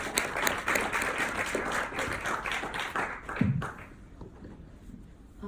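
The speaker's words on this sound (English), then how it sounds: "Let's give her a huge round of applause" A seminar audience at a personal brand building session gives a short round of applause. Close, fairly loud clapping fades out after about three seconds, followed by a dull thump and quieter room sound.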